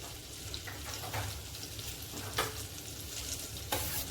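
Cumin seeds sizzle in hot ghee or oil with melted butter, a soft, steady frying hiss with a few brief louder crackles and stir noises, heard up close and alone.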